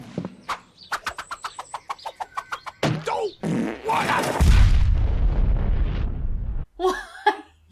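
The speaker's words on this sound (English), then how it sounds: "it had this like really shit flame explosion effect" A burst of clicks and crackles builds into a deep, rumbling whoosh of an explosion lasting a few seconds, followed by a short rough flutter.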